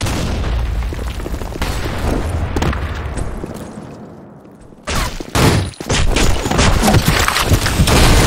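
In a Counter-Strike style video game, a loud grenade blast booms and rumbles away into quiet, then a second heavy explosion and crackling bursts erupt close by and stay loud to the end.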